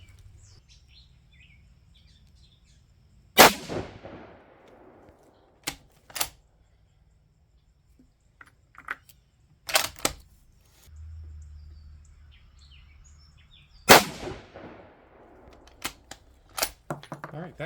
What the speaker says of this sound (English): We'll go ahead and shoot these 3.